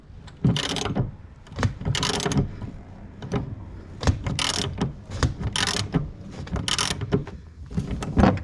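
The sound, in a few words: loosening an 18 mm bolt with a breaker bar and 12-point socket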